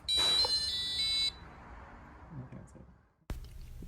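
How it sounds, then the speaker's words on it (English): A robot's fingerprint sensor rejects an unenrolled finger with a loud, harsh electronic error buzz lasting about a second, followed by fading handling noise and a sharp click. "if we use the fingerprint that's not enrolled into the fingerprint sensor, it plays an error sound."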